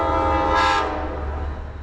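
Metro-North's Conrail Heritage Unit 201, leading train 1860 to Danbury, sounds a short, loud horn blast as it arrives at Merritt 7 station in Norwalk, over the low rumble of the approaching train.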